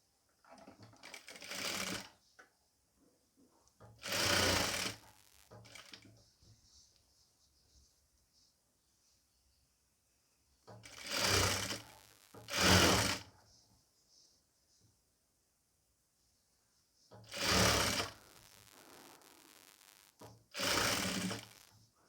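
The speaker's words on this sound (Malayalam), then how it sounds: "1/4 ഇഞ്ച് അകലത്തിൽ സ്റ്റിച്ച് ചെയ്ത് കൊടുക്കുക" Sewing machine stitching piping onto a nighty a quarter inch from the edge, running in five short bursts of about two seconds each with quiet pauses between them, close and clear, no talk.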